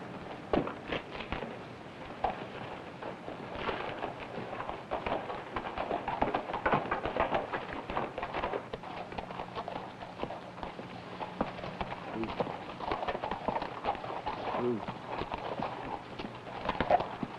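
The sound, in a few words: horse hooves clip-clopping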